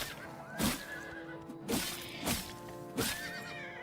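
A horse in a video game neighs and rears up in four loud, sharp whinny bursts spaced about a second apart, over a faint steady background hum.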